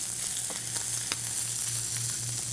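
Filet mignon steaks searing in a hot pan, seasoned with salt and pepper: a steady, close sizzle and crackle with a few sharper pops, continuous and loud, with no one talking.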